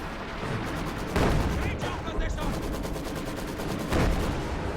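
Sniper rifle shots sound in a strategy video game, two sharp cracks standing out over a dense, continuous battle bed of distant gunfire and explosions, with a commentator's voice running underneath.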